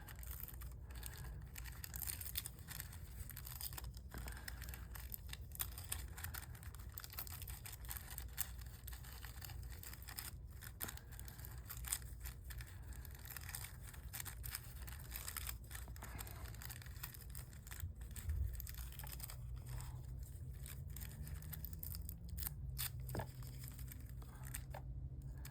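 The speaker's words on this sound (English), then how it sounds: "Sorry for all the noise. This paper is noisy." A sheet of paper being torn and crinkled up close for a gratitude journal, making a continuous dry rustling with scattered sharp crackles and crunches for about 25 seconds and no talk.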